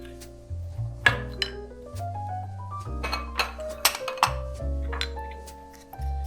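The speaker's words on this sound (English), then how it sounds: "You want to give this a good mix around like this" Homemade toothpaste being mixed in a container, a string of clinks and taps as a utensil knocks against the sides, uneven and close, with no talk.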